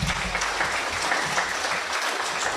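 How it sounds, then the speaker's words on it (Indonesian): Audience applause at the grand launch of the ATR/BPN Corporate University, a loud, continuous patter of many hands clapping together, filling the room evenly from start to finish with no talking over it. "silakan tepuk tangan dulu Pak"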